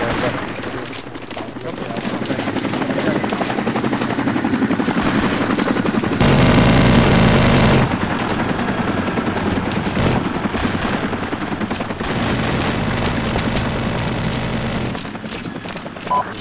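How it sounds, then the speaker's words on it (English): PK machine gun fire in the video game Arma 2, loud sustained automatic bursts near a helicopter, with a steady rotor roar underneath and dense rattling volleys through most of the stretch. "There's still a PK firing near us to the west, northwest"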